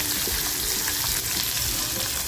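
Chinese-style chilli garlic prawn masala frying in a pan as sliced capsicum goes in, giving a steady, loud, dense sizzle with faint stirring throughout and no voices.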